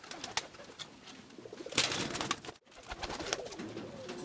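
Pigeons in a loft of white pigeons coo and flutter close by, a busy layered chorus of soft rolling calls with a brief gap of near silence in the middle.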